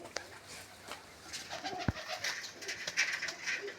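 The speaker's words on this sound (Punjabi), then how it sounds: "ਇਹ ਤਾਂ ਵੱਡੇ ਕਬੂਤਰ ਆ" Soft pigeon cooing close by, several low throaty coos with a brief sharp knock partway through, no speech.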